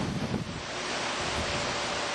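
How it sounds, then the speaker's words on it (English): Strong, steady wind ahead of Hurricane Ike roars across the microphone at night, a continuous broadband rush with gusty buffeting and no voices. "It's starting to get really windy."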